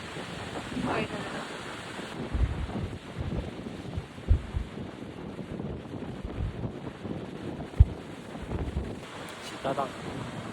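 Strong wind on a boat at sea roars steadily across the microphone over the wash of waves, with a few short thumps and intermittent voices.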